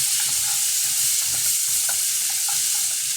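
A spoon stirring crab curry in a pan, with a steady close sizzle of frying underneath and soft scraping strokes repeating throughout, no voices.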